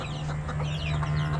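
A hen clucking on a backyard farm, a steady low fowl murmur over a constant background hum, with no break across the short stretch.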